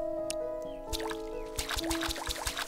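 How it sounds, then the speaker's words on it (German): Watering plants with a watering can in the video game Staxel, a trickling, gurgling splash of water that swells in the second half over steady game background tones. "gieße mal gerade noch eine Runde"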